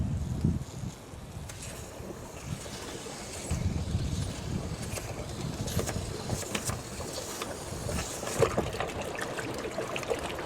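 Mucky green water draining out of a pool filter after its bung is pulled, a continuous trickling and gushing wash with wind noise buffeting the outdoor microphone throughout.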